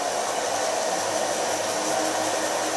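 A hair dryer blowing steadily on a man's hair during styling, a constant close whooshing drone with no breaks and no voices.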